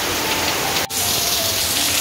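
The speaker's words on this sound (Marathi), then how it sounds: "बघा भन्नाट पाऊस पडत आहे बाहेर एकदम" Heavy rain pours steadily outside in a village, a dense continuous hiss of drops with a brief dip partway through, no voices.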